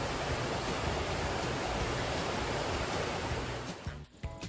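Water rushes continuously through an old mine water tunnel in a loud, even roar that fills the space, then briefly drops off near the end.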